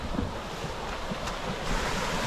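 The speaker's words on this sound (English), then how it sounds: "I can hear all this rushing water." Rushing water running through a swamp after heavy rainfall, a constant broad roar close by with some wind buffeting, no voices.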